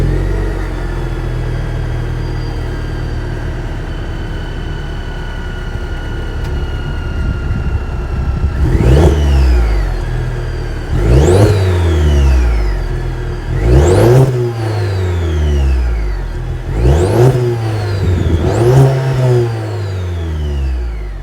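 A 2023 Cadillac CT4-V's 2.7-liter turbocharged four-cylinder idles steadily, then is revved five times in quick succession. Each sharp climb falls back toward idle, heard close and loud with no talking.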